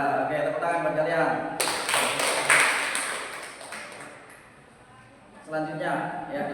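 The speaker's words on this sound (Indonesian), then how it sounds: "tepuk tangan buat kalian." Students burst into applause during a Quran lesson in a classroom, a dense clatter of clapping lasting a few seconds between stretches of a voice speaking.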